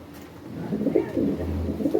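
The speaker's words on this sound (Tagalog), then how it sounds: "Lalaki na katawan ng kalapati." Pigeons in a loft coo softly nearby, a run of low throaty calls over faint background noise, with no talking.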